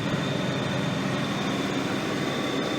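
John Deere 4450 tractor running steadily while chopping hay in Iowa, a dense continuous mechanical roar with a faint high whine, loud and unbroken, no voices.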